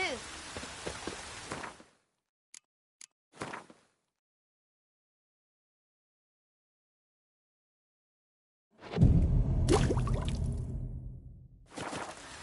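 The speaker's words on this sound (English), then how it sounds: "Oh, it's drizzling." Light drizzle falling in The Witcher 3 video game, heard as a soft broadband hiss of rain that comes and goes in loud bursts separated by long stretches of silence.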